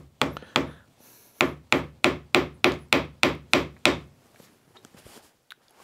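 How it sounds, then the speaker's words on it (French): A hammer drives a nail into wood with about ten sharp, ringing blows, two quick ones first, then a brief pause and a steady, evenly spaced run of strikes, close and loud before fading to light handling noises. "quelqu'un planter une pointe avec un marteau"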